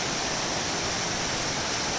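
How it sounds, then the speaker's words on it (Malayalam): Fresh water flows along a stream channel beside a rural plot, making a steady, close, unbroken rushing hiss with no other sounds. "ഇതാ ഇതൊരു നല്ല വെള്ളത്തിൻ്റെ ഒരു ചാലാണ്"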